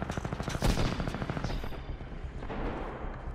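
A thunder cannon fires in a Titanfall 2 match, a loud, rapid burst of heavy booming shots followed by rumbling decay.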